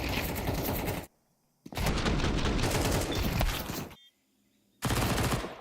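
Rifle fire from the video game Counter-Strike, heard during a competitive esports match, comes in loud, dense bursts. Two long volleys are separated by short silent gaps, and a third burst starts at the end.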